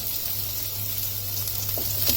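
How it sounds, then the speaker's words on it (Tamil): Onions and curry leaves sizzle steadily in a hot pan on the stove, a close, continuous crackling fry with a faint stir near the end. "இப்போ வெங்காயம் நல்லா வதங்கி வந்திருக்கு"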